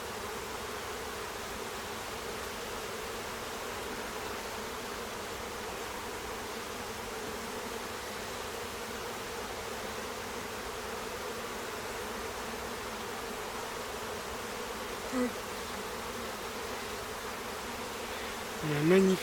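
Honeybees buzzing in a small nucleus hive during a spring inspection, a steady, soft, continuous hum with a few faint knocks near the end.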